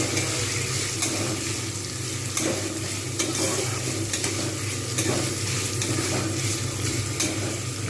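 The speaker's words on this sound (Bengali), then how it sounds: "এই পেঁয়াজটাকে কিন্তু খুব ভালো করে ভেজে নেব" Onions frying steadily in a pan for a jackfruit and prawn curry, a dense continuous sizzle with faint periodic scrapes of a spatula stirring, close and fairly loud, no talking.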